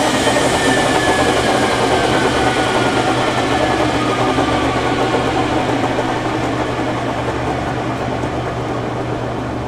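A 1965 K&T model 530TF-20 horizontal milling machine runs with a loud, steady mechanical hum and whine, its tone holding fairly constant and easing slightly toward the end, with no talking.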